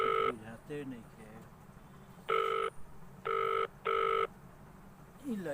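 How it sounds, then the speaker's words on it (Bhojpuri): A telephone rings in three loud, even electronic bursts with short gaps between them, and voices speak briefly before and after the ringing. "ए भाई केकर फोन आवत बाटे कुछ बुझाते नइखे।"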